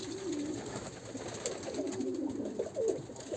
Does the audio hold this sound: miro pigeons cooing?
yes